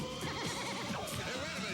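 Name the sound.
horse neighing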